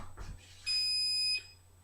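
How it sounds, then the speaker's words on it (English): Kitchen timer giving a single sharp electronic beep of under a second, fairly faint, in a quiet kitchen while tea brews. "I'm going to turn my timer off because it's really annoying."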